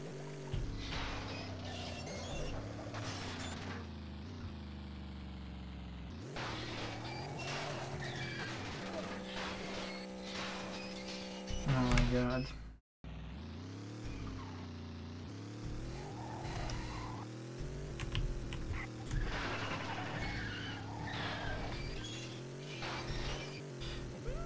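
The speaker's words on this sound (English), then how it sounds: "this might be the same engine sound as used in GTA 1 in some cars" A car engine in the Carmageddon video game revs and drones continuously with shifting pitch, mixed with skidding tire squeals, cutting out briefly near the middle before roaring back.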